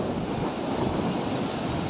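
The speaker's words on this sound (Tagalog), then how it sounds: "Ramdam na ramdam mo pag nandito ka sa playa sa tabing dagat at naguunahan ang mga alon" Ocean waves washing onto a beach shore, a steady, loud broadband roar of surf with wind rushing across the microphone, and no voices.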